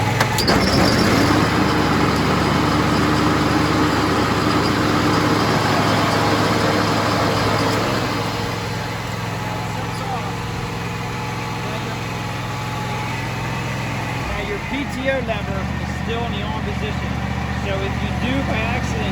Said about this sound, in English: Now I am going to run the mower deck